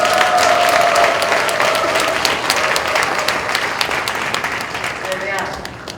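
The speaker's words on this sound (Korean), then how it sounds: "박수로 맞이합니다." A church congregation applauds to welcome a pastor to the pulpit, a dense, steady wash of many hands clapping that stays loud throughout and thins slightly toward the end, with a few voices calling out over it.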